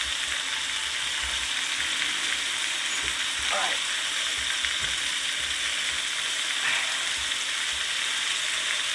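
A cast iron pot roast cooking on a sailboat stove gives a steady, even sizzle throughout, with brief stirring or scraping noises breaking through now and then.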